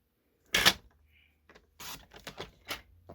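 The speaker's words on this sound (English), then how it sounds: "this time we're going to use our cutting blade, and we're just going to cut that off" A paper trimmer's cutting blade slices through cardstock, giving a sharp close swipe followed by a cluster of quick clicking cuts and snaps in a quiet room.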